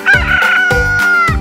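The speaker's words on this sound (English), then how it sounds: "It's just a rooster." A rooster crows a loud, close cock-a-doodle-doo with a long sustained call, set against a rhythmic musical backing in a children's nursery-rhyme song.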